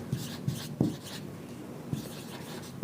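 Handwriting during a university mathematics lecture on relativity, heard as soft rubbing strokes in short repeated bursts, close and moderately quiet, with no speech over them.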